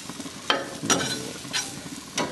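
Onions sizzle on an Island Grillstone cooking surface, a steady crackling fry with a few sharper bursts as they are stirred or turned, close and moderately loud, with no voices.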